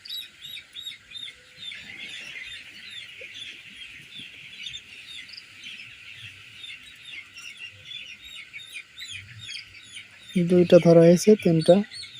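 Steady high chirping and peeping from 21-day-old coloured broiler chicks, continuous and fairly close, with a burst of louder clucking near the end.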